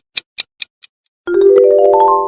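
The H&M sound logo: four crisp, evenly spaced clicks fade in loudness, followed by a short pause and a bright ascending synth melody of a few rising notes.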